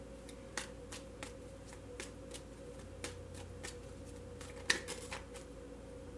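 Whispering Woods tarot cards being shuffled by hand, a series of quiet, crisp riffling bursts at irregular intervals over a faint steady hum, with no talking.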